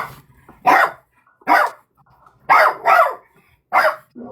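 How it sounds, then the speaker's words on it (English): A dog barks in short, loud bursts, five barks in a loose uneven rhythm with quiet gaps between them, close to the listener and with no talking over it. "What are you barking at?"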